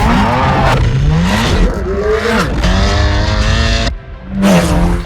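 Loud, close BMW M2 Racing race car with a 4-cylinder 2-litre engine revving hard through rising gear pulls, with brief drops between shifts and a short dip before roaring again.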